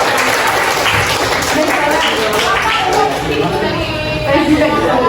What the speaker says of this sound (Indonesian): tepuk tangan untuk 3 orang.